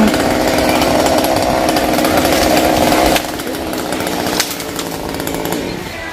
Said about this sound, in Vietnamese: Em Cường tự cưa tự xả dây luôn.